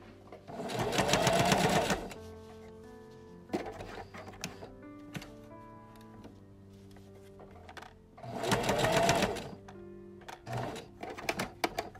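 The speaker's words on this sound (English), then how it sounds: "Draw a line an eighth of an inch away from the edge and stitch along the line." A sewing machine stitching along a Victorian bodice lining in two loud whirring runs of about two seconds each, with quieter handling clicks and fabric shuffling between them.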